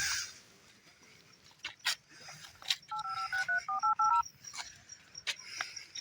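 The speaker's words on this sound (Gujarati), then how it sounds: "કમાને ફોન કરો" Telephone keypad tones ring out as a number is dialed, several short beeps in quick succession, fairly close and clear over a quiet background with faint animal sounds.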